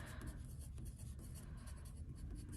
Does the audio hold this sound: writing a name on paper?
yes